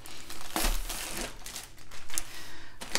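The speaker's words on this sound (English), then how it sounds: "So we have a branded, what's a plastic bag or a dust cover to give that extra layer of protection to our" The plastic dust cover bag from a diamond art canvas kit crinkles loudly and close by in repeated bursts as it is handled and unwrapped. No one speaks.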